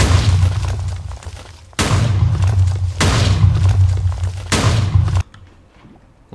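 Heavy booming TNT blasts set off in Minecraft, four loud explosions in a row each with a long rumbling tail before dropping into quieter aftermath; no one speaks.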